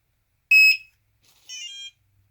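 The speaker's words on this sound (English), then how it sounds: "Makes that beep sound, or that tone." A short, bright electronic beep from a custom LED controller being installed on a Gotway MSX electric unicycle, followed a moment later by a softer, slightly lower tone, both clean against silence.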